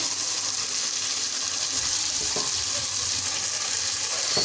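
Mixed vegetables with cauliflower sizzle and hiss steadily in a hot pan while being stirred, a continuous close frying sound with faint scraping, and no voices.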